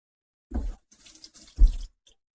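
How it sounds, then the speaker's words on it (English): Tap water runs in short splashing bursts as a spatula is rinsed at a kitchen sink, three brief close gushes separated by silence. "Rinse my spatula off"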